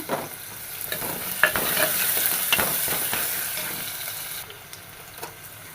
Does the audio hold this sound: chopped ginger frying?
yes